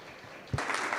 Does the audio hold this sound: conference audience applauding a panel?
yes